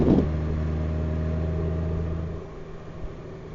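A Honda Goldwing DCT touring motorcycle rides a road in southern Arizona, its engine giving a steady, smooth hum that eases off toward the end, close and unaccompanied by speech.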